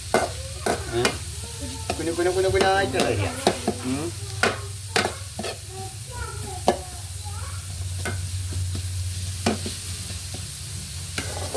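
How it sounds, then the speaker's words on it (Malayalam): Finely chopped onions sizzling as they fry in a pan, with repeated sharp clinks and scrapes of a spatula stirring them, close by; a person speaks briefly over the cooking. "വലിയ ഉള്ളി സവാള ഒക്കെ കുനുകുനുകുനേണ്ട് അരിഞ്ഞിക്കാണ്ടേ നേരമായിട്ടുണ്ട് ഫ്രൈ ആക്കി എടുക്കുക"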